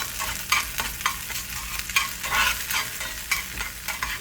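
Chorizo sausage crackles in a pan as it is broken up and stirred, bursts of sizzling rising and falling with rhythmic scraping strokes of a utensil, close and fairly loud.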